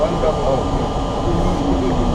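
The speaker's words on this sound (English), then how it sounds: "This is the Manhattan-bound Q Express train." An NYC subway R32 train on the Manhattan-bound Q Express run from Brighton Beach, heard as a steady loud rumble and roar of the car rolling along the track, continuous throughout with no clear gaps.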